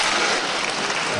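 Wrestler Johnny Saint claps his hands together on the mat during a bout, a quick burst of claps blended into a broad, loud wash of crowd noise in the hall.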